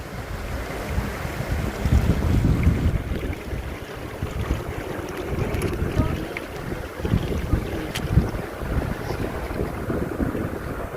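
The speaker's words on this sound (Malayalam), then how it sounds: "നല്ല കാറ്റുണ്ട്." Strong wind buffets the microphone in a continuous, gusty roar near Vellarimedu waterfall in Kollengode, Palakkad, during monsoon, rising and falling throughout, with faint sounds of water in the background.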